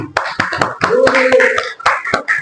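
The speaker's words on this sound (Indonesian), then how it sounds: "Baik, kita beri tepuk tangan dulu." A classroom group claps hands in a short burst of uneven, overlapping claps, with voices talking through it.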